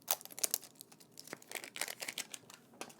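The packaging of an Apple Pencil in matte black being unwrapped close up: crisp crinkling and tearing of plastic and paper in quick irregular bursts, with a few sharper snaps.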